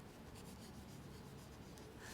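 Chinese calligraphy brush writing on paper, a soft continuous rubbing and sweeping of bristles across the sheet, steady and close for a couple of seconds.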